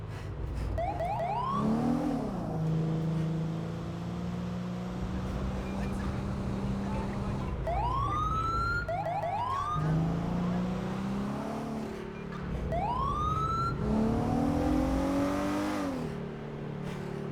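A Ford Explorer with a 3.5 liter EcoBoost engine sound in the GTA 5 police game revs and accelerates in repeated surges beneath a wailing, chirping emergency siren that sweeps up and down several times.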